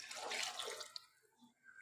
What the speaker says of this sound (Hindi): तो इसलिए मैं थोड़ा सा पानी भी ऐड करूँगी